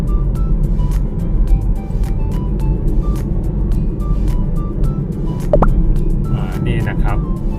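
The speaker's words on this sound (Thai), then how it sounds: "อันนี้ก็จะเป็นเครื่องสูบน้ำของเขานะครับ" A canal water pump near Suvarnabhumi runs with a continuous low, rumbling drone and scattered light clicks and plops of water, while someone talks over it.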